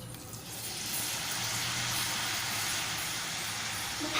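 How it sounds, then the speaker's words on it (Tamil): French fries frying in hot oil for their second fry, a steady close hiss and crackle running unbroken throughout at moderate level. "திருப்பி 2ஆவது டைம் நம்ம ஃப்ரை பண்ணலாம்."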